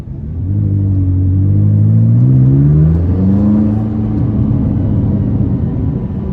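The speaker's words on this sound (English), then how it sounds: "this exhaust really does this car justice" A 2017 McLaren 570S with an aftermarket exhaust, tuned to 664 horsepower, revs up with a loud, close rising engine drone and a steady rumble that holds through the run.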